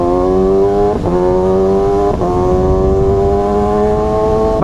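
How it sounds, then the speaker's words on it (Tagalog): Kawasaki ZX6R sport motorcycle engine revving loud and steady up close, its pitch dipping briefly twice during rev-matched blips before climbing again. "pag nire-rev match natin ganda ng tunog"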